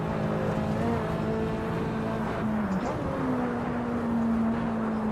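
A Mazda MX-5 Miata with a swapped high-power engine pulls hard on the road, its loud, steady engine drone rising in pitch as it accelerates, continuous throughout with a brief shift partway.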